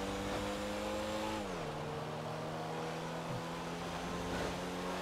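A Porsche GT3 in a video game speeds along with a steady engine drone, its pitch dropping briefly as it shifts, then holding a constant high-speed hum.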